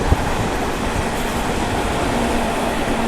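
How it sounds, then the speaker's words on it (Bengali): A freight train hauled by two locomotives rolls past a local train on the Barddhaman–Howrah line, giving a steady, close rumble of wheels and carriages with no clear individual clacks. "দু দুটো ইঞ্জিন নিয়ে চলছে মালগাড়ি"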